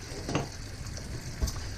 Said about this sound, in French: j'ai fait dorer un peu mes calamars